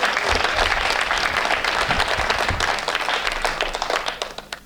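Audience at a Hindi kavi sammelan poetry gathering applauds to welcome a poet, loud dense clapping from a large crowd that holds strong and then thins toward the end.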